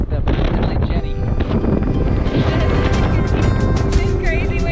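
Strong wind at the top of the Ponce Inlet lighthouse in Florida roars steadily into the microphone throughout, buffeting and rumbling loudly, with faint background sounds beneath.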